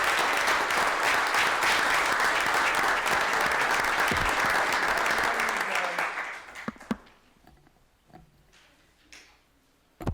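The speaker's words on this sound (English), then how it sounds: "A round of applause for them as well." A town board meeting crowd applauds the coaches with dense, sustained clapping for about six seconds, then fading into scattered last claps and quiet room noise.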